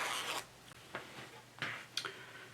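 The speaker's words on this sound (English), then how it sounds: "my zipper needs to be closed" Zipper being pulled on a plaid fabric skirt during sewing, several short raspy zips in quick bursts, close and quiet in a still room.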